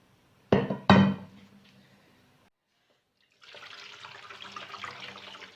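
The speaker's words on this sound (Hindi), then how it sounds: "एक बड़ा बर्तन लेंगे और इसके अंदर नीम गर्म पानी हम डालेंगे" Lukewarm water pours into a large pot in a home kitchen, a steady close splashing stream that follows two sharp clanks of the vessel being set down and a brief quiet pause.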